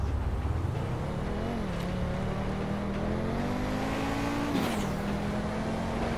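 A turbocharged hypercar with around four turbos revs in GTA 5, its engine droning steadily and rising in pitch, loud and close, with a brief burst of extra revving near the end.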